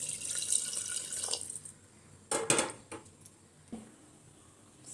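Hot water poured into a clay pot of chicken curry, with a steady pouring rush followed by a few sharp clanks of utensils against the pot, close by.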